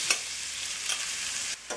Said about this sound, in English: I'm going to add this shredded carrot. This is a 2 lb shredded carrot, which I'm going to add into my ghee.